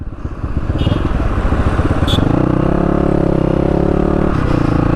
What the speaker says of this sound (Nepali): आज कति दिनपछि म यो बाटो बाइक निकालेछु के